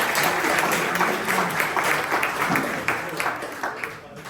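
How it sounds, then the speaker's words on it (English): An audience at a tech meetup claps in sustained, dense applause that stays loud throughout and thins slightly toward the end. "let's give Muralidharan another round of applause"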